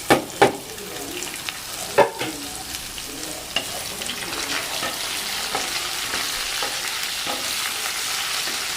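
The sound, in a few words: onion pieces frying in a pan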